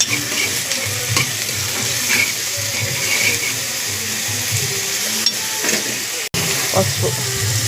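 Curry leaves fry and sizzle in a hot pan in steady crackling bursts, with some stirring and scraping, heard close up with a brief break near the end.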